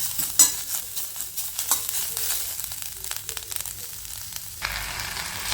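Grated fresh coconut stirred in a pan with a utensil, light sizzling and scraping strokes close by, irregular and moderately quiet.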